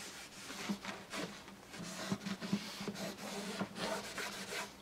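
Polish is rubbed by hand into a satin-finish acoustic guitar body, giving a faint, close, rhythmic scuffing of cloth on wood in repeated strokes, quiet and without voices.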